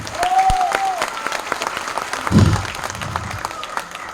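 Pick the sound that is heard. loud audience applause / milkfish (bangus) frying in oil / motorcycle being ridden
loud audience applause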